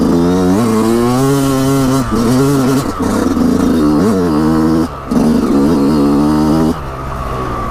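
Yamaha YZ125 two-stroke dirt bike engine lugging low in third gear, a loud, close, raspy drone with rising and falling pitch through steady throttle changes, no talking.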